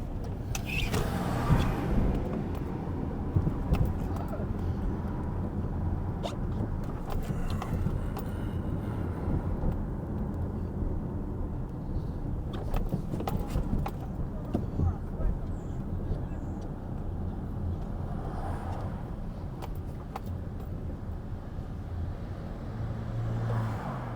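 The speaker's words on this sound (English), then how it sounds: "traffic's wild, boy." Steady city road traffic in Philadelphia's Kensington neighbourhood, a continuous low rumble of cars passing nearby with occasional louder swells, while people talk intermittently over it.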